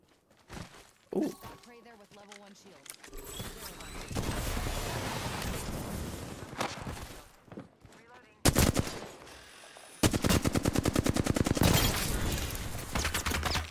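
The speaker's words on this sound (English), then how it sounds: "Stop shooting me." Incoming gunfire striking the player in the video game Apex Legends, with rapid shot bursts and impacts building into dense, loud volleys in the second half, while a voice talks and reacts over the action.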